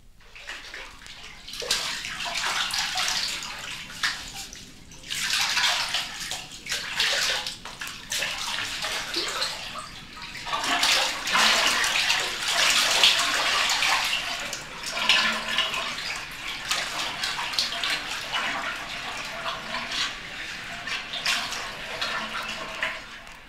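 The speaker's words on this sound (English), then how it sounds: "A bath," A bathtub fills from a running tap, water splashing and gushing steadily and fairly loud for the whole stretch, with surges and churning sloshes and no voices.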